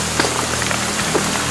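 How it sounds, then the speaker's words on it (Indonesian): Rain falls outdoors in central Lombok as a dense, even hiss of drops on surfaces, heard alone and fairly loud throughout. "Hujan turun, kita balik dulu ke lokasi awal."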